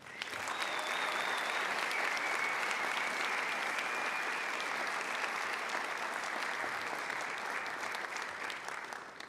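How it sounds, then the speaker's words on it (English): Sustained audience applause at an Ivy Day campus ceremony for the female runner-up, a broad, steady crowd clapping heard somewhat distant and soft, with a faint tone running through it and a few louder claps. "Please give a loud round of applause for this year's female runner-up"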